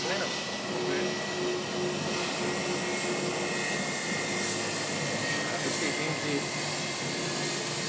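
A Cessna 208A Caravan turboprop with a belly baggage pod flies past at Wellington Airport on a clear day, a steady, broad engine drone holding at moderate level throughout with a faint voice murmuring underneath.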